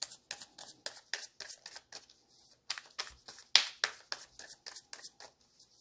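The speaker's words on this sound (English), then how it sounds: "Waiting for a card to flip for the sign that's the end of the shuffle." A tarot card deck being shuffled in quick, dry bursts of riffling card clicks, close and fairly soft, with brief pauses between flurries and no talking.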